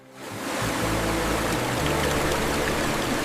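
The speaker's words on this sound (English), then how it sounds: "Water carries the potatoes swiftly and gently to the slicing stage." Steady rushing water in a french fry factory flume carries potatoes toward the slicing stage, a continuous loud gushing with a low churning rumble and no voices.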